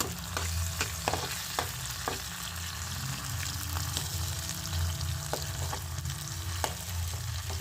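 Tomatoes sizzle in a pan after fish has been fried, with a continuous low crackle and irregular clinks of a spatula stirring, close and quiet, no voices.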